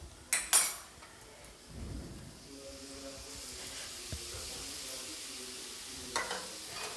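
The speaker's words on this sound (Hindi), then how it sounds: "और इसको अच्छी तरीके से चला लूँगी मैं।" Spinach gravy goes into a pan of fried spices and is stirred, with a couple of sharp utensil clacks against the pan at first, then a soft sizzle and scraping under a quiet, close stir.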